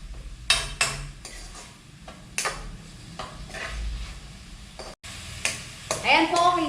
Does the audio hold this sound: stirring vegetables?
yes